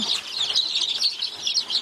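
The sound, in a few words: turkey chicks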